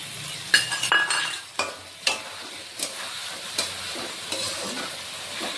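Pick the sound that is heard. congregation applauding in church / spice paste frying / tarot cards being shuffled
spice paste frying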